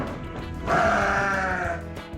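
A Garut sheep gives one long, wavering bleat that swells suddenly and holds for over a second before fading, loud and close, with faint farmyard noise before and after.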